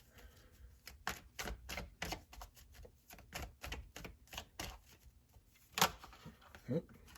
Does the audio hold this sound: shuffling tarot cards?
yes